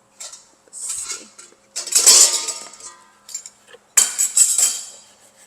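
Dishes and utensils clink and clatter as a bowl is handled in a home kitchen, with irregular bursts of bright metallic and ceramic knocks separated by short pauses, close and fairly loud.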